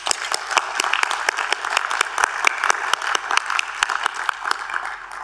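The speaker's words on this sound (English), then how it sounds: "Can we all give a round of applause for these outstanding graduates?" A crowd applauds graduates at a university commencement ceremony, with steady, dense clapping that carries on for several seconds and has no speech over it.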